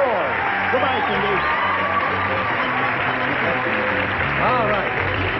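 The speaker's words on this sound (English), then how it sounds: "That's nice of you to applaud Cindy as she goes off." A 1976 CBS daytime game show studio audience applauds steadily as a contestant departs, with a host's voice talking over the clapping throughout.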